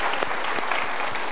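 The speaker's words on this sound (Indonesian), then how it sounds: "kita berikan tepuk tangan dulu" A brief burst of steady, dense audience applause at a motivational seminar, clapping throughout.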